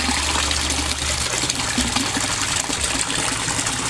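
A Resun aerator pump bubbles hard in a koi pond, producing a loud, continuous rushing gush of water and bubbles close to the microphone, with no talk over it.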